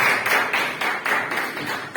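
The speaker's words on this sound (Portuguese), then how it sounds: "Aplauda o Senhor, irmãos." A church congregation clapping in praise, a crowd's hands beating out a steady, rhythmic pattern of loud claps close by.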